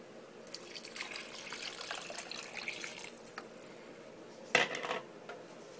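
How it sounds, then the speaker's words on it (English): Water poured into a rice cooker onto basmati rice gives a soft continuous splashing and trickling for a few seconds, quiet and close, ending with a brief clink of the vessel, with no talk. "And I'm going to add 4 cups of water to it."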